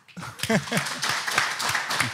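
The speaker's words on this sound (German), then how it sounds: "gib mal einen schönen Applaus heute an Hansi Flick" A small seated podcast audience gives Hansi Flick a short round of applause, light scattered clapping that starts abruptly and runs under a brief voice.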